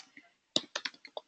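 A handful of sharp, close clicks, like a mouse or keys tapped in a quick irregular cluster of about six, on a computer running an enterprise app, otherwise quiet.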